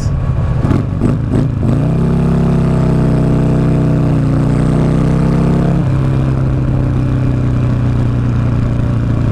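A 2009 Buell Lightning Long XB12SS motorcycle engine revs loudly and close by. A few sharp blips open the sound, then a sustained rising and falling drone settles into a steady, lower rumble.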